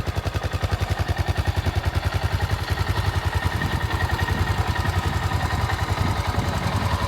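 A 1981 Yamaha TT500 classic single-cylinder motorcycle engine runs steadily nearby with a loud, even, thumping beat and a clattery mechanical edge.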